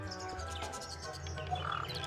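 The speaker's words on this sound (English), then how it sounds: "Birds in cage, 3 brightly colored birds in a heavy ornate cage." Brightly colored birds in a heavy ornate cage in the Tangle Tower video game chirp in short, bright calls that grow clearer toward the end, over a steady background score.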